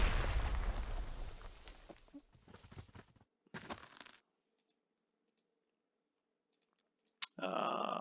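Artillery fire in the World War II strategy game Panzer Corps 2 on the Barbarossa North front: a dense rumbling barrage and a few sharp bursts, then silence broken by one sudden crack and a renewed roar.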